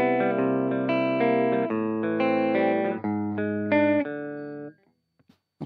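Clean-toned electric guitar with the BOSS BP-1w preamp pedal switched off, playing a run of sustained chords that ring clearly and loudly, then cut to silence near the end with a faint pick noise.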